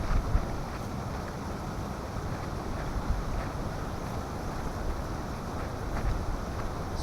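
Strong cold autumn wind sweeps across an open, exposed campsite, a steady broadband roar with slight gusting swells that continues unbroken throughout, with no voices.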